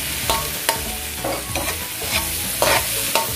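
Chopped carrots sautéing in a pan for a Hawaiian tripe stew, a steady sizzle broken by repeated scraping stirs of a utensil, close and loud with no talking.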